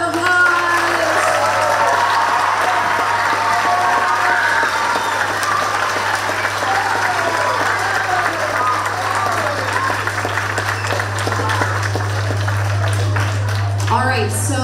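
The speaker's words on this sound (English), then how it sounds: "So I think that we deserve to give all of our musicians one more big round of applause." A concert audience gives the musicians sustained applause, a dense crowd of clapping that runs loud and steady for about fifteen seconds, with voices mixed in and a low constant hum underneath.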